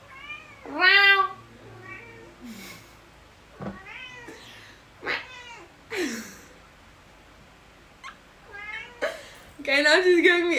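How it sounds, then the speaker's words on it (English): A cat meows repeatedly up close, several drawn-out, rising and falling cries spaced across the stretch with louder calls at the start and end, and a person talks in between. "Yep, that was my cat."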